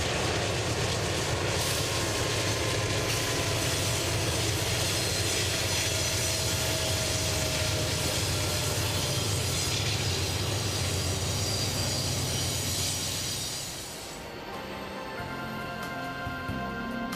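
A mainline passenger train climbs toward the summit tunnel of 7,588-foot Raton Pass in Colorado, giving off a loud, steady rumble and rail roar. The sound drops and changes character in the last few seconds.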